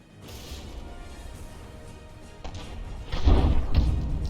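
Mortar barrage shells from a battleship in the From the Depths video game strike in a rumbling cluster of thuds and crashes, building from a low roar to heavier close impacts near the end.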